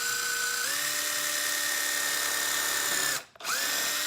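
An electric drill countersinks a hole in a steel bracket from a Nissan 180SX car seat, running as a steady whine close by, then stopping abruptly near the end before spinning back up.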